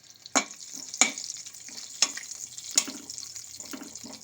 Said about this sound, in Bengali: দিয়ে দিচ্ছি চেরা কাঁচা লঙ্কা,